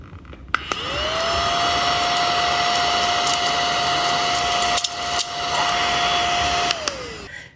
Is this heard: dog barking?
no